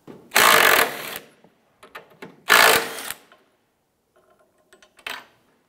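A hand ratchet loosens strut tower brace bolts on a Ford Five Hundred, two loud bursts of rapid clicking followed by quieter scattered ratchet clicks and faint metallic taps, close up.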